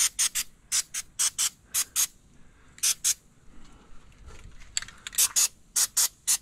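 Rapid series of short hissing bursts of corrosion inhibitor sprayed under a Suzuki outboard's covers at close range, coming in irregular clusters with a few brief pauses and faint rattling in between.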